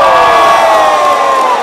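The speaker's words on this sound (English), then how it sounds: "the crowd went wild" A packed crowd cheers and shouts wildly at a Panthers home-opener basketball game against the Humber Hawks, a loud, sustained roar of voices with piercing high yells that cuts off abruptly.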